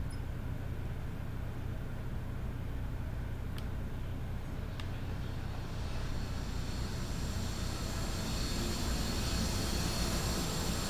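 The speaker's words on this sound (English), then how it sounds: "bat plane coming in" Batplane from Batman: Arkham Asylum flying in, a steady broad rumbling engine roar that swells slightly louder toward the end, with no talking over it.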